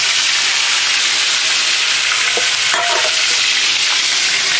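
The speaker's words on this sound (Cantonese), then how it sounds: "咁我就成嚿魚扒擺落去啦" A steady, loud sizzle of a fish steak half-frying in plenty of hot oil over medium-low heat, continuous and close, with a faint clink partway through.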